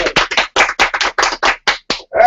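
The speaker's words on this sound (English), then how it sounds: "Go ahead and applaud yourself." An audience applauds indoors at a talk show event, with bursts of clapping coming in quick, uneven clusters, close and fairly loud, with no voices.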